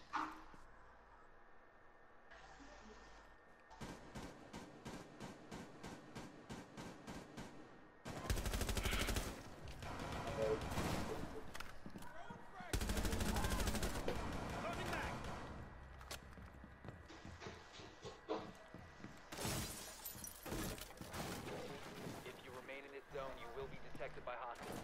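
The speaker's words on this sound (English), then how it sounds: "I'm getting shot from everywhere" Heavy gunfire rings out in Rainbow Six Siege: rapid bursts of automatic shots and sharp single reports come from several directions, with loud, broad blasts in between, while a player talks over the shooting.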